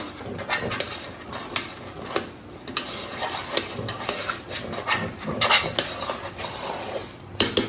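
Fada lapsi, cracked wheat cooked with ghee and sugar, gets stirred in a pan after cardamom powder goes in, giving repeated close scraping and clinking of a spoon against the metal with light rhythmic rubbing strokes.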